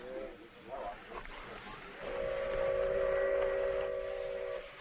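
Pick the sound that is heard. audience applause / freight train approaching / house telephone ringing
freight train approaching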